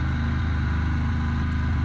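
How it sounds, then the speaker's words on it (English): A carbureted 1999-2007 Kawasaki W650 motorcycle idles with its choke on, a steady, even low chug that holds a constant pulse, loud and close, with no clear drop in revs and no voices. "and then you'll hear the revs drop."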